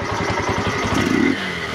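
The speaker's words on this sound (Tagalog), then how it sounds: "start na natin yung motor ni boss" A motorcycle engine starts and runs at idle, a steady close mechanical putter with rapid rhythmic pulses and a brief louder rev, no talk over it.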